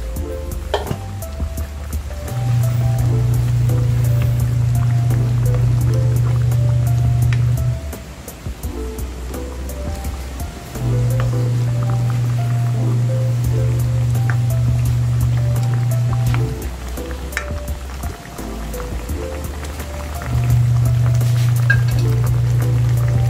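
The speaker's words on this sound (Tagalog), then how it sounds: "pakuluin ulit natin yan para tuluyang maluto at lumambot yung ating pork" Marinated pork bubbles in a boiling pot, a steady rushing simmer with occasional pops, while a low hum cuts in and out in long stretches.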